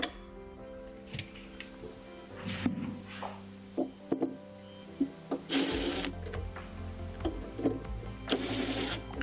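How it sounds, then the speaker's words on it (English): Cabinet hardware being installed: screws driven in by hand with a series of irregular clicks, taps and short scraping bursts close by, no talking. "Pop your screws in."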